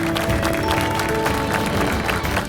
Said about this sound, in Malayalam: എല്ലാവരും വലിയൊരു കയ്യടി കൊടുക്കുക.